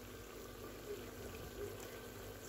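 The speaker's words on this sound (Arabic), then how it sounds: "دابا غادي نزيد الزيت البلدية" Olive oil poured into a cooking pan where tomato sauce with seasoning is simmering, giving a steady, soft hiss and trickle that holds evenly throughout, close and unbroken.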